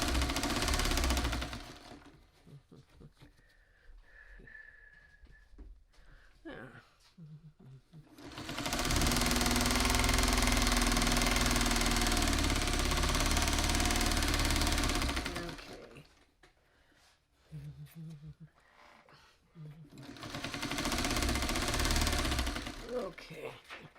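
Sewing machine stitching quilt block pieces for a scrappy shoofly block, running in two long loud bursts with quieter handling noises and a voice speaking between them.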